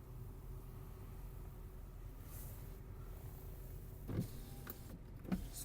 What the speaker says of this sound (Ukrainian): Склопідйомник працює.